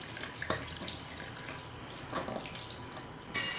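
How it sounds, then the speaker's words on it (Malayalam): Tap water runs steadily to rinse curdled milk held in a cotton cloth while rasgulla is being made, a soft continuous splashing at close range, with one or two brief louder spatters. "കുറച്ച് വെള്ളം ഒഴിച്ചിട്ട് ഇതൊന്ന് കഴുകിയെടുക്കാം കേട്ടോ"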